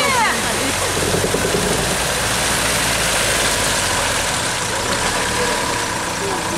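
Engine of an off-road vehicle on a rough route pulling away, a loud steady rumbling drone with churning noise throughout and voices mixed in early on.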